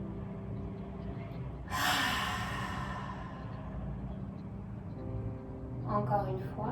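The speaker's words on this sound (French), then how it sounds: "vous expirez fort par la bouche" A single strong exhale through the mouth during a breathing exercise comes as one loud, breathy whoosh after a quiet start, close to the microphone, followed by soft background hum and a brief voice.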